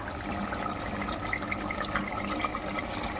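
A little water poured into chicken curry cooking at home, a soft, continuous liquid splash and gurgle at moderate distance, steady for about three seconds with no voices over it.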